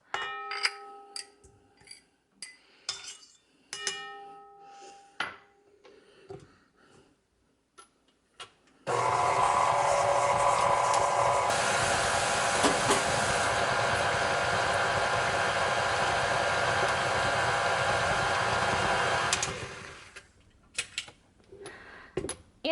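An electric mixer beats edible cookie dough made with softened butter, a loud steady whir running about ten seconds. Scattered clinks and knocks of bowl and utensils come before and after it.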